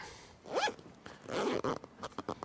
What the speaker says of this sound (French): Et on ferme la fermeture éclair